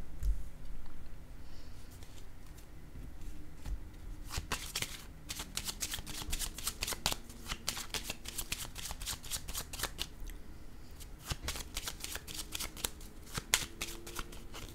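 Playing cards being shuffled and laid down on a table: a long run of quick, crisp riffling clicks, then a steady rapid patter of card flicks, close and fairly quiet, with no voice.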